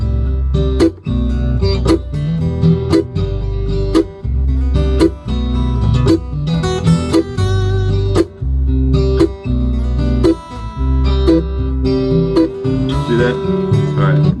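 Mandolin chop in a studio, sharp percussive chord strokes landing in a steady rhythm over a backing track with low bass, loud and clear with no talk.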